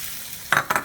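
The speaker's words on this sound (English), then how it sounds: "They are sizzling and being jazzed up" Peppers sizzling in a hot oiled pan, a steady quiet frying hiss broken by two short, louder bursts of crackle near the end as they are stirred.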